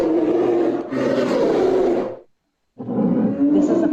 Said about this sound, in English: A bear growls.